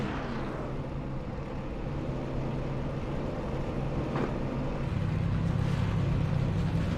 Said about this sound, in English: You hear the cars starting to grid in.